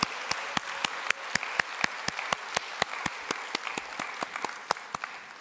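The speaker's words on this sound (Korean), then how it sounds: "예수님께 영광의 박수를 함께 올려드리도록 하겠습니다" Applause from a church congregation at an Easter service giving glory to Jesus, sparse and fairly steady claps from a modest group, each hand strike distinct, moderately near with no talk over it.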